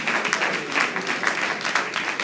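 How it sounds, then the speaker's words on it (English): Students at a stakeholders' conference receive a round of applause from the audience, a dense, steady patter of many hands clapping that sounds fairly close and even throughout. "please stand and let us clap our students"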